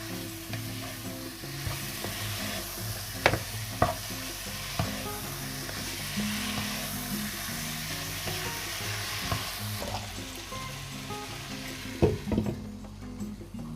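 Beef rendang sizzles steadily in a pan while it is sautéed, with occasional scraping clinks of a utensil stirring the meat, close and moderately quiet.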